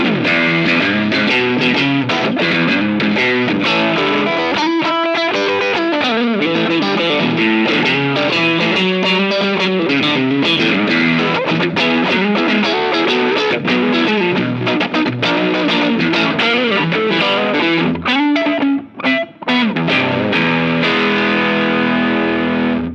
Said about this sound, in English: And here's the boost.